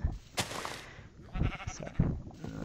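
Sheep in a let's play video game bleat a few times up close, short wavering calls over light game background sounds.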